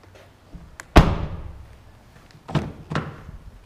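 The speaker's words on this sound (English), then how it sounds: "Sounds nice when those doors close." Car doors on a Chevrolet Malibu shut with a solid, heavy thunk, one loud close up near followed by two softer slams a moment later, with no talking.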